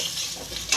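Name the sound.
potatoes frying in a pan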